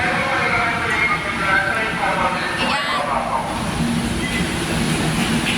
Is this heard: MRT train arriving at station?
yes